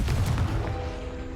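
A Confringo fire-blast spell in the video game Hogwarts Legacy bursts as a deep, heavy boom right at the start, then rumbles away into a fading low tail under faint sustained musical tones.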